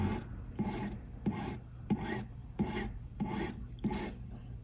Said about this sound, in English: This is a number 4 hand file.